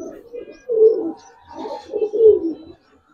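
Giribaz silver pankhi pigeon cooing close up while held in hand, a few soft throaty rolling coos in a loose rhythm with brief pauses between them.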